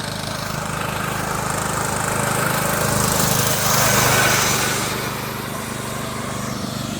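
A racing lawnmower with a swapped pulley runs steadily nearby, its loud, buzzing small engine swelling slightly in the middle and then settling, with no talking over it.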